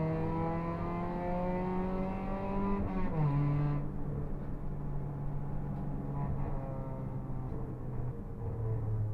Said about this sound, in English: you can hear me off the throttle, just coasting through them